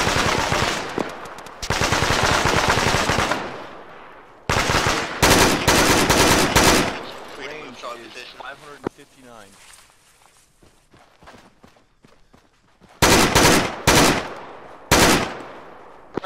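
Bursts of automatic rifle fire and single shots in the military shooter Arma, loud and close in several separate volleys with pauses between, while players talk over the radio throughout.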